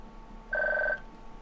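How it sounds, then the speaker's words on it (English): A phone rings once with a short electronic trill, clear and close, over a faint room hiss and then quiet again. "I'm getting a phone call."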